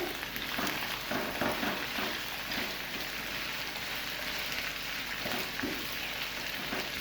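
Potatoes and onion frying in a pan for an Afghani egg breakfast, a steady close sizzle and crackle that holds evenly throughout, with faint stirring and no speech.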